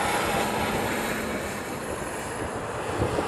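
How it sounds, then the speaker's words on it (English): Boeing C-40 Clipper passing overhead at Honolulu airport, heard as a broad, fairly faint jet roar that holds steady and then slowly fades, with no talking. "That was a C-40 Clipper that just went by."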